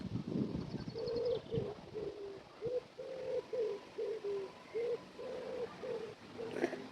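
Near a lake by a leisure park, a pigeon or dove gives a regular series of soft, low coos in a steady rhythm, heard fairly close against faint outdoor background noise.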